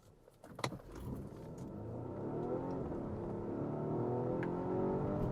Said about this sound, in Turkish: Ufaktan böyle motor homurtusu da bu otomobilde hiç fena değil.